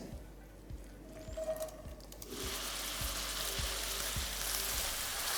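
Chopped onions go into hot oil and fry with a steady crackling sizzle, which jumps louder after a couple of seconds and then holds as a dense, even hiss.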